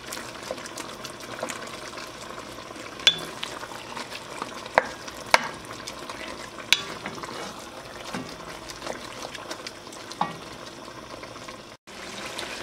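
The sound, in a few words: ground beef browning and simmering in a pot on the stove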